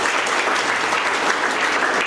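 A church congregation at a confirmation service applauding, a loud, continuous roar of many hands clapping at once, steady from start to finish.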